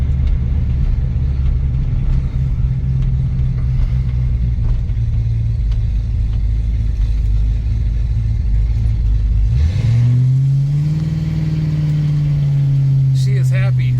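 A car engine fitted with a double pumper carburetor drones loudly at a steady idle, then revs up sharply near the end, its pitch climbing and holding higher.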